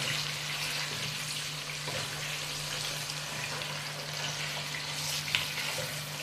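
Meat bones frying in a ladle of ghee, a steady broadband sizzle with faint bubbling and a low hum underneath, continuous and close with no talk.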